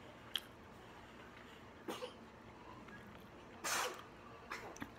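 A single sharp sneeze bursts out near the end of a quiet indoor moment, preceded by faint small throat and mouth noises.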